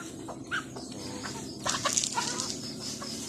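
Soft clucking from chickens nearby, scattered short calls over a quiet, steady background hum.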